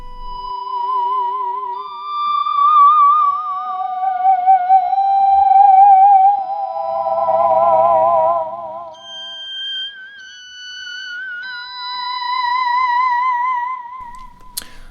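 Clean, sustained guitar notes with a wavering, pitch-bending delay from a Malekko Ekko 616 analog delay trailing each phrase, creating a dreamy ambient wash with no talking.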